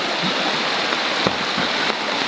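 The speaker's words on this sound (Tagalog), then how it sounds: "Ito na po yung ilog." Steady rushing water fills the scene, a continuous broadband flow like a river or stream running close by, with a few faint clicks.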